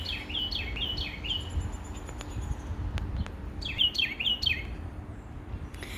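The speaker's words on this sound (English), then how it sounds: "It's chirping everywhere." Several birds chirp outdoors on a sunny spring day, bright descending trills coming in two clusters, one at the start and one near the end, with a steady low outdoor background between them.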